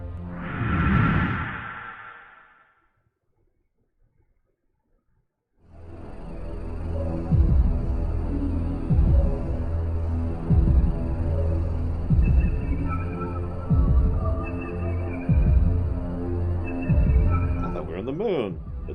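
A slow, deep throbbing heartbeat of the Virage embryo in The Legend of Dragoon plays as a steady rhythmic pulse under a low hum, following a brief whoosh and a short silence.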